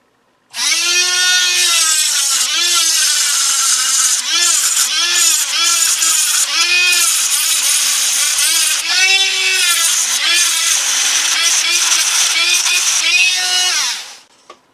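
Angle grinder cutting through metal kitchen tongs to make a tool for pulling plants from pots, a loud continuous whine with pitch wavering as the disc bites, running steadily for about thirteen seconds.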